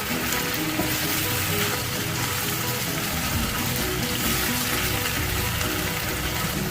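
Fried onions being mixed into achari chicken in a hot pan, giving a loud, dense, unbroken sizzle and frying hiss that runs evenly from start to finish, close up and without any voices.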